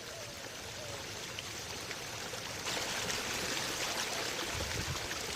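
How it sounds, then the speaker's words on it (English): Salty water trickling into shallow pools on a low desert floor, a continuous close burble and splash that grows slightly louder and fuller partway through, with no voices. "The salty water trickles into pools on the lowest part of the desert floor."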